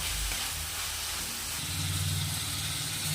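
Seasoning for a fine-semolina vegetable upma fries in a pan with a continuous close hiss and sizzle, joined partway through by a low droning hum underneath, with no voices.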